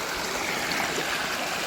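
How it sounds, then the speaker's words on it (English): A creek running through the middle of Pickens, with small waterfalls nearby, makes a steady, close rushing and trickling of flowing water with no talk over it. "This creek that runs through the middle of Pickens."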